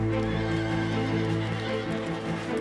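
A horse in Victoria's high country gives a loud, close, sustained neigh while its hooves clip-clop underneath.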